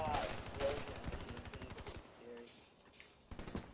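Rapid automatic gunfire rattles in Black Ops 3 gameplay, bursts of sharp repeated shots with brief pauses, mixed with game sounds and occasional voices.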